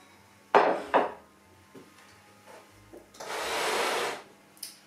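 Butter dropped into a stand mixer bowl while baking Halloween spider cupcakes: two soft thuds close up, a few light knocks, then a second-long scraping rush as the rest is pushed from a bowl.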